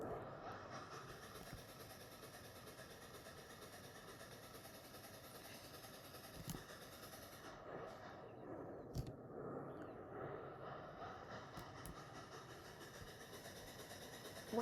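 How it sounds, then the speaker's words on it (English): Steady in-game train rumble in Off Roading Epic as the locomotive turns around near a dirt driveway, a continuous mechanical hum and hiss with a few faint clanks, no one talking. "And now I'm just gonna turn this train around and go back to the truck."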